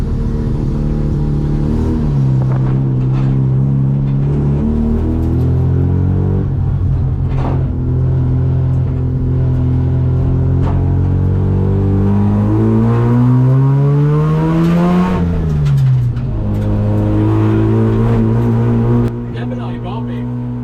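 A cheap $500 race car's engine runs with a high idle from inside the cabin, its steady drone rising and falling in pitch with throttle, loud and close under someone talking.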